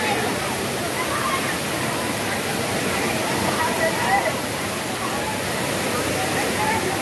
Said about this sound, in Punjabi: ਉਧਰੋਂ ਬਾਰਿਸ਼ ਅਤੇ ਉਧਰੋਂ ਪਾਣੀ ਲੋਕ ਫਿਰ ਵੀ ਨਹਾਈ ਜਾਣ ਤੜਾ ਤੜ ਝਾਲ ਨੇ